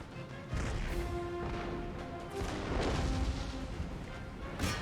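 Booming cannon fire from a naval or field battle in Empire: Total War, with heavy blasts and rumbling impacts layered over sustained battle noise and a low tonal drone throughout.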